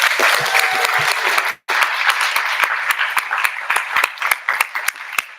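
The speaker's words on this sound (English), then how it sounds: "So I would like maybe to get a round of applause for yourself" Audience applause at a veterinary students' symposium general assembly, loud and close with distinct individual claps, briefly cut off before resuming and slowly thinning into scattered claps.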